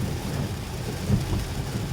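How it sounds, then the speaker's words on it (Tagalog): Heavy rain pours down steadily in a dense low roar with a rumble like distant thunder, heard from a parked car waiting it out, no speech. "Grabe lakas ng ulan."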